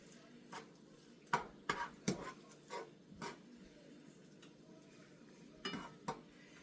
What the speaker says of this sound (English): But I'm also kind of cooking my chipped beef a little bit.